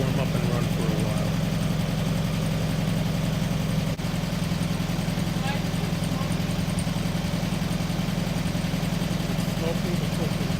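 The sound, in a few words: VW Sunbug engine idling while warming up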